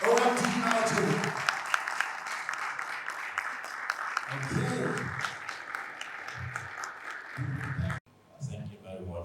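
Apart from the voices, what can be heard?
audience applause celebrating OMD Nigeria's 25th anniversary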